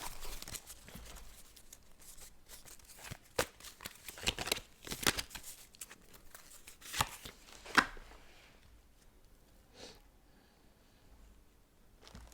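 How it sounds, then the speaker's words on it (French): Tarot cards are shuffled and drawn by hand, producing soft irregular riffling and slapping bursts with a few sharper snaps, close and fairly quiet, with no talking. "j'ai pas de carte, je vais donc la tirer."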